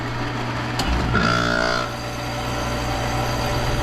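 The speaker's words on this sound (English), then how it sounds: "Now the compressor's running." An air conditioner compressor on an R-410A system hums steadily and low, with a click and a brief rising whine as it kicks in, then settles into a constant drone.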